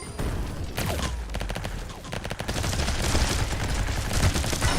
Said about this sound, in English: Go missiles!